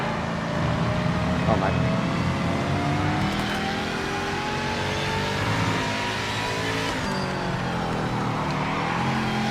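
In a racing video game, a GT car's engine revs hard and sustained, with blipping downshifts sweeping the pitch up and down. Someone briefly speaks over the steady engine drone.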